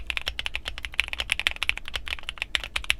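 Fast typing on a foamy QK65 keyboard with ChosFox Ding Dong switches, a dense run of close, crisp key clacks and muted thocks in steady rhythm, heard alone.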